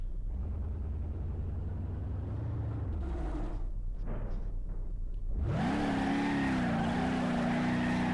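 An old car in BeamNG.Drive roars through a burnout, its engine rumbling low before surging into a loud, steady high-revving drone.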